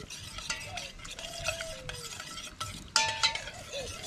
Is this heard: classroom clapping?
no